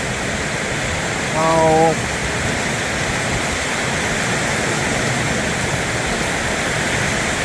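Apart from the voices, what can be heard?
heavy storm rain driven by high winds in Thailand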